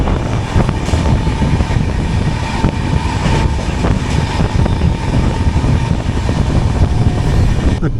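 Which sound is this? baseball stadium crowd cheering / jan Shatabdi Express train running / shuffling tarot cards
jan Shatabdi Express train running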